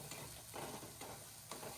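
Masala frying in a pan for a raw mushroom bhaji, a faint sizzle with a few soft spatula stirs scraping at intervals.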